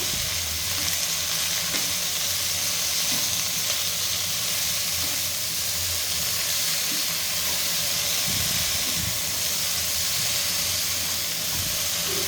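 Broccoli fries in a pan with salt and turmeric being mixed through, a steady loud sizzle with soft scraping stir strokes running throughout, no voices.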